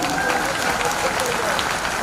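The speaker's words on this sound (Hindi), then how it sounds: "एक बार ताली बजा के मुझे माहौल दीजिए" Audience applause at a mushaira poetry gathering in Nagpur, a steady wash of clapping from a crowd that carries evenly through the whole stretch without breaks.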